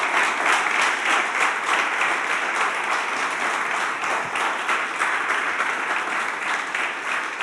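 A church congregation breaks into steady, dense applause that fills the room at close range and keeps going without a break.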